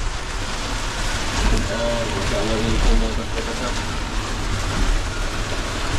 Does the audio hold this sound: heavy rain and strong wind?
yes